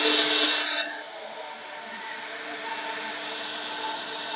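An EGO 765 CFM cordless leaf blower, run without turbo, blasts gravel outdoors with a loud, steady airy roar that drops sharply in force under a second in and then continues as a softer, even rush of air.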